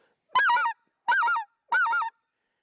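Three evenly spaced two-note yodel calls of a specklebelly goose, clear, close and alone, each a quick rising-falling yelp with silence between.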